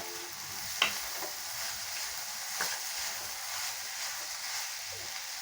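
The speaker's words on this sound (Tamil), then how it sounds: "இதை நல்லா பெரட்டி கொடுக்கலாங்க" Instant puli sadam (tamarind rice) being stirred in a pan with hiss and sizzle, a steady bright frying wash with a few soft scraping knocks from the spoon, no talking.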